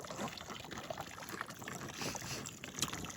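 Outboard motor on a small fishing boat on Lake Usma, running steadily with broadband drone and water splash, close and continuous with no talk.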